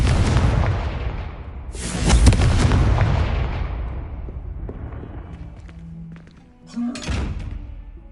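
A Confringo spell explosion in the game Hogwarts Legacy, a loud booming blast up front that decays over a few seconds, followed by a second strong burst and a fainter one later, with no talk.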